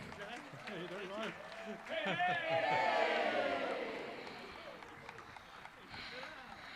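Audience applause and cheering for the director of the Ames Municipal Band swell from a crowd, rising to a broad wash of clapping in the middle and then tapering off while an announcer talks over it.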